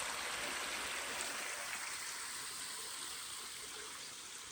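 A small stream flows past a spot where the water has eroded its banks, giving a steady, even rushing wash that sounds faint and somewhat distant, with no voices.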